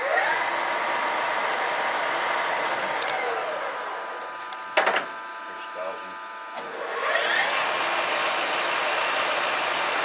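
The horizontal spindle of an SIP Hydroptic-8P jig borer runs at speed, up to 1,000 RPM, with a steady whine that winds down, pauses with a couple of clunks, then spins back up.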